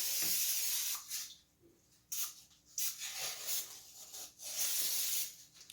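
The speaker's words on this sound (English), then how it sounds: "What are you spraying it with? Vegetable oil." An aerosol can of vegetable oil cooking spray hisses out several short spraying bursts onto a pan, close and fairly loud, with brief pauses between them.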